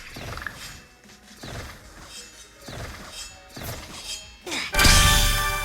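An Ethereal Kunai sword in a video game gives a series of sharp metallic clanking swings, about one each second, then ends in a louder, bright burst of impact.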